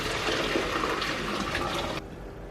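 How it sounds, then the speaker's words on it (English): Homemade chicken stock pours from a pot through a fine strainer, a continuous close splashing rush of liquid that stops abruptly near the end. "I'm going to pour it into a finer strainer and get rid of all those little bits."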